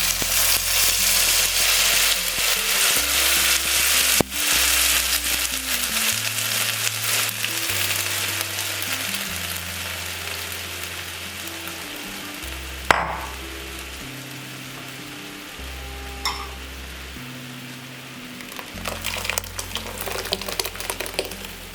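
Coconut and peanut paste sizzles in a hot tempering for South Indian coconut chutney, a loud, steady frying hiss that runs throughout with occasional stirring clinks and no talk.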